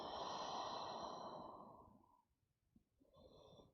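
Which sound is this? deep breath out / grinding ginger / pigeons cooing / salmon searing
deep breath out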